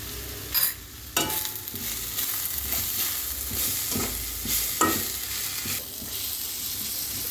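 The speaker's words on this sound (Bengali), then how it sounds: "পেঁয়াজ ক্যাপসিকাম ভাজা হয়ে গেছে" Onion and capsicum fry in a pan with a steady sizzle, broken by a few sharp scrapes and clacks of stirring at irregular intervals.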